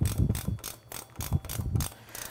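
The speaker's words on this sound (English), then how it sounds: "right now we're going to go to our rim lock, tighten up our rim lock" A wrench ratchets in short rhythmic bursts while tightening the rim lock on a dirt bike rear wheel during a tire change, close and moderately loud, with no talking.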